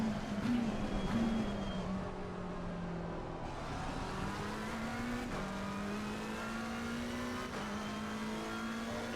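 Race car engine in a racing video game at Kyalami, holding a steady high drone with a shifting pitch that dips and climbs through gear changes, loud and continuous with no talk.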